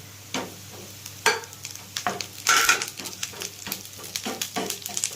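Sliced onions with green chillies and curry leaves frying in a pan, with crackling sizzle bursts and scraping stirs that come in irregular pulses over a quiet background.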